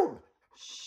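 A dog gives a single short, sharp bark up close, followed by a brief pause and faint background hiss.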